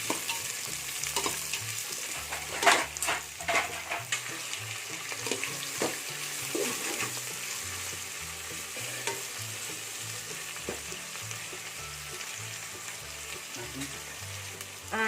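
Onions frying in oil for mutton biryani, with a steady sizzle and a burst of close spoon scrapes and clatter early on that settles into softer, sparser stirring. A continuous rushing hiss runs underneath, and no voices are heard.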